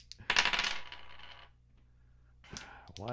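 Dice clatter across a table in a bright rattling burst that settles after about a second, and a second shorter tumble follows near the end.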